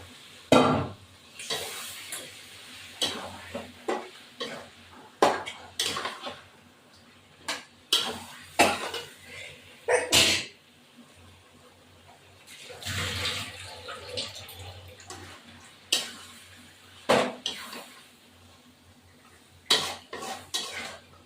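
Mutton pieces fry and get stirred in a pot for a spiced Bengali curry, with repeated scraping clanks of a spoon against metal over a low sizzle, irregular strokes spread throughout and no talking.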